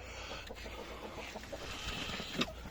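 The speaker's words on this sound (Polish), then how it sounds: "Dobra, witamy kolejne kwoki w ekipie. Mamy tu dwie kwoki." Miniature Brahma broody hens give soft, scattered clucks and low murmurs close by, over a steady low background hum, with one slightly louder cluck near the end.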